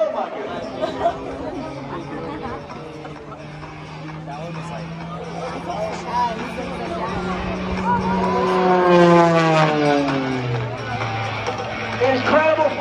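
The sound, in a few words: aerobatic aircraft flying and climbing at airshow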